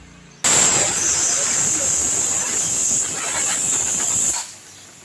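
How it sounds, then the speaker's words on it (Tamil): A pressure cooker on the stove making egg rice lets out a loud, sharp steam hiss that starts abruptly, holds for about four seconds, then cuts off. "இப்போ குக்கர் 3 விசில் வரட்டும்."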